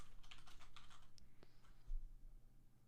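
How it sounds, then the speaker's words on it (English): Computer keyboard typing: a quick run of light, close key clicks, then a few scattered taps, heard alone. "Here I go, typing them."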